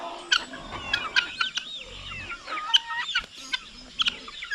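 Backyard chickens on a small farm cluck and squawk in quick, overlapping bursts close by, with sharp clucks repeating irregularly.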